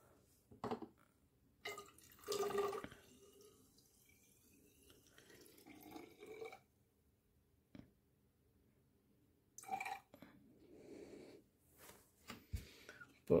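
Fuel poured up to the 100 ml mark in a measuring container already holding 25 ml of water, a splashing liquid stream heard in several short bursts with quiet gaps and handling clicks between them.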